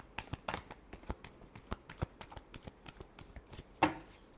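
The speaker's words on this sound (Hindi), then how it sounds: "Last shuffle." Tarot cards being shuffled by hand in a series of crisp riffling flicks and soft slaps, close and fairly quiet, with a louder burst near the end and no voice over them.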